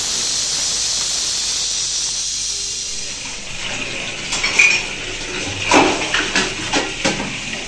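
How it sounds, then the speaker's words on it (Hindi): Dishes, pots and pans being washed in a home kitchen: steady hiss of running water with several sharp clinks and clatters of metal and crockery toward the end. "मैंने कहा बर्तन धो लो"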